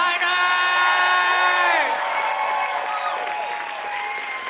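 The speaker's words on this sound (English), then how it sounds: "One final round of applause for these designers!" An audience at a high school fashion show gives loud sustained applause with cheers and whoops for the designers, a dense steady roar of clapping held for several seconds with raised voices over it.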